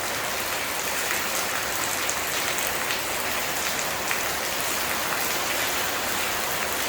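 Steady, heavy rain falling on a house under renovation in Surin, Thailand, a dense, even hiss with scattered drips and patters, continuous and unbroken with no voices.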